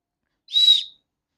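A small toy whistle from a child's shopping unboxing gives one short, clean, shrill toot that rises and fades within half a second, alone in silence.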